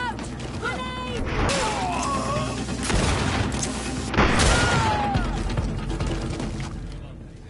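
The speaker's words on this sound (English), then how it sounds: "Watch out! Grenade!" A grenade explosion and gunfire in the video game GreedFall: loud, dense battle noise with two heavy blasts partway through, shots and clatter throughout, and voices shouting over the fighting.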